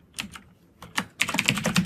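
Computer keyboard typing as code is entered, with two short bursts of keystrokes followed by a denser, faster run of clicks, close and clear with no talking.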